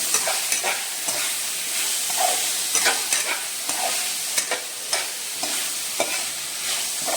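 Vegetables fry in a pan while being mixed for an idli dish, with a constant bright sizzle and regular scraping and clacking stirring strokes, close and without talk.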